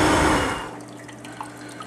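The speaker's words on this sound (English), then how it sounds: "I have a small Rubbermaid bin that has his larger waterfall with the fogger running for humidity." Water trickles from a small waterfall inside a Rubbermaid bin reptile habitat while a humidity fogger runs. A brief louder splash gives way to a soft, steady trickle with faint drips over a low hum.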